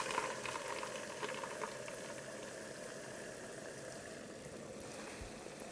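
Liquid nitrogen boils and hisses on a tablecloth, a steady soft sizzling and bubbling rush, faint and continuous, heard alone without talk.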